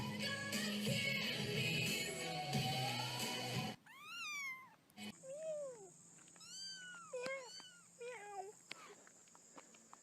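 A cat meows several times in short rising and falling calls, close and fairly clear, after a noisy burst of mixed sound at the start, with a soft faint whine in the background.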